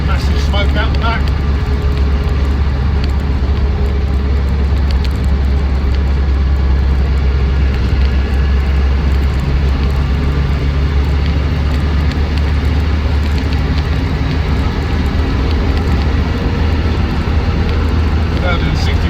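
A Land Rover Defender 90 hardtop with a 200TDi diesel cruising at 60 mph, a continuous heavy engine drone and road rumble heard from inside the cabin, loud and steady, with someone talking over it.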